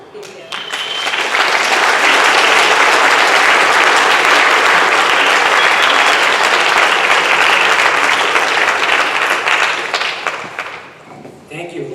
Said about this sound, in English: Another round of applause for Lauren.